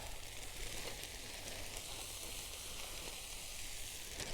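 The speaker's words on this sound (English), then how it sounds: "I can get a fry on." Chopped peppers, onions and spring onions sizzle steadily in a pan on a camp stove during wild camping, a soft, even frying hiss with no talk.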